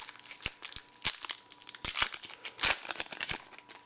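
A 2016 Topps WWE trading card pack being torn open by hand, with close, crisp crinkling and ripping of foil wrapper in quick irregular bursts, no talking.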